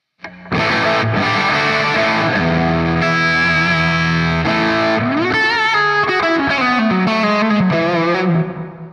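Electric guitar played through a NUX MG30 lead patch with heavy gain and a touch of reverb rings out loud and alone, sustained distorted chords giving way to a bending lead line.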